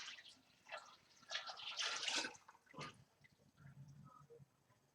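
First runnings of wort from a mini mash poured into a big brewing pot, a splashing liquid pour in uneven bursts that swells then tapers off, fairly close but moderate in level.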